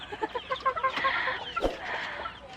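Farm chickens cluck and squawk close by in a busy chorus while they are fed and watered, with a sharp louder call cutting through partway.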